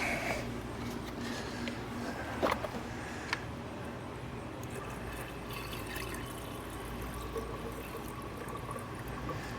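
Coolant flush liquid pours steadily into the cooling system of a 2012 Chevrolet Cruze engine, a continuous close liquid trickle with a couple of brief clicks and no talking.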